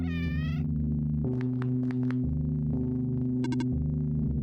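Cats in the video game OneShot meow in a short burst of clear, synthetic-sounding mews over a steady electronic hum and layered tones.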